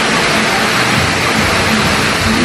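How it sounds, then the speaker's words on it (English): Indoor waterfall at the Seminole Hard Rock Guitar Hotel, a steady, loud, close wash of falling water that fills the whole moment with broadband rushing and splashing, no voices over it. "Waterfall everywhere."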